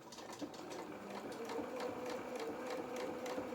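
A sewing machine with a twin needle runs slowly and steadily, its rapid stitching rhythm fairly quiet and continuous, alone without talk, while sewing a doll's holster trouser.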